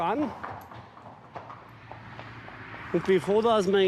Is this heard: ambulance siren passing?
no